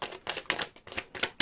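A deck of tarot cards being shuffled, giving crisp, rapid riffling bursts in an uneven rhythm, close and fairly loud, with no talking.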